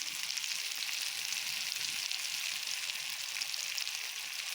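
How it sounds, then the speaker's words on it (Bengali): Tomatoes fry in a large amount of oil, a dense, steady, close sizzle that stays even and continuous throughout with no talking. "বিলাতি ফ্রাই হয়ে গেছে"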